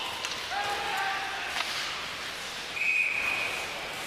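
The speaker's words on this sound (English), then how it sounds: "Play whistle down on the offside, and Tardif got spun around" A referee's whistle sounds at an OHL ice hockey game between Peterborough and Oshawa, a faint, short shrill tone over the broad wash of arena crowd noise.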